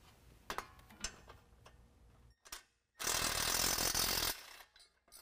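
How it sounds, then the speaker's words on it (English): Two bolts being loosened from the exhaust resonator coupler on a 2021 Ford F-150 5.0 V8, faint ratchet clicks and metallic ticks followed by a short burst of a louder power tool whir, quiet and close. "we can go ahead and take our two bolts out of our coupler and then pull off the resonator."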